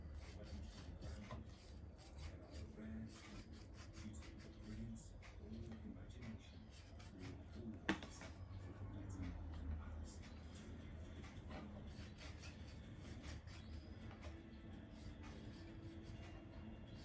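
A saw rasps through a pork leg in a kitchen, a faint, steady back-and-forth rubbing that continues throughout, with a sharp knock partway through and talking over it.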